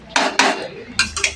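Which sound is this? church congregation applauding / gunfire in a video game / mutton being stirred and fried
mutton being stirred and fried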